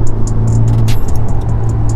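A Honda Civic Type R (FK8) fitted with an HKS blow-off valve, ceramic downpipe and front pipe idles close by with a low engine drone, while repeated sharp hissy bursts from the valve flutter over it.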